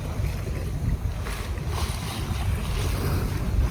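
Open-sea waves wash around a sailboat under sail while a strong wind roars across the microphone in a continuous, loud rush, and no voice is heard.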